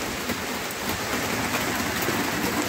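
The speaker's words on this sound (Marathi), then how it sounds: "खूपच हळू आता जोरात येते पाऊस." Rain falling harder makes a loud, dense, even hiss of drops hitting surfaces, steady throughout with no voices.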